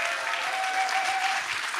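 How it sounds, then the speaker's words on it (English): An audience applauds at the Summoners Fest event for Marvel Contest of Champions, thick steady clapping with a faint crowd murmur, carrying on evenly without anyone speaking. "Can we get a round of applause?"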